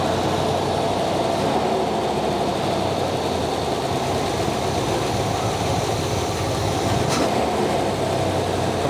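A 1979 Camaro barn find with exhaust leaks on both sides runs at fast idle, a steady raspy engine drone with a constant rushing, leaky exhaust tone that holds even throughout.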